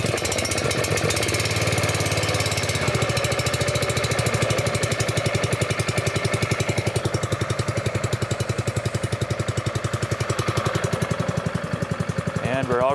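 The small gas engine on a wildfire mobile attack unit's water pump runs steadily and loudly up close, with a continuous rapid chugging throughout and no pauses.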